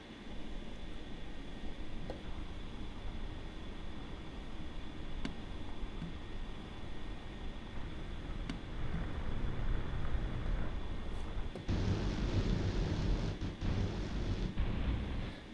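A spectral synthesizer, Iris 2, plays a loaded sample as a hazy, noisy, wind-like texture, sustained and fairly quiet, then turns brighter and louder in its last few seconds.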